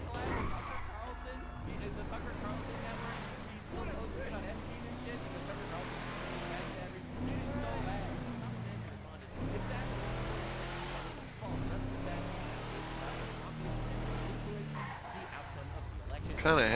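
A truck engine drives in a video game, a continuous revving motor with shifting pitch running under frequent talking.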